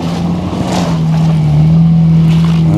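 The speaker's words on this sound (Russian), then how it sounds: "еду я на таком внедорожнике. Вот. Форсируем преграду." An off-road vehicle fords a water obstacle on a snowy mountain track in the Southern Urals, its engine droning loud and steady with a rising rush of churning water.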